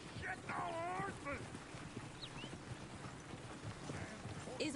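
Horse hooves clop in a video game, a quick uneven run of hoofbeats alongside a brief whinny, with a voice talking over the scene.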